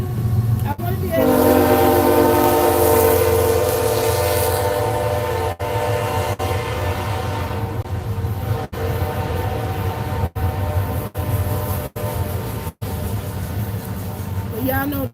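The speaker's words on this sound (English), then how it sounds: "y'all know Train always have to make an entrance in my videos" A train passes near a home garden, its horn blaring loud and long at the start over a heavy rumble of rolling wagons that continues throughout, with someone talking over it.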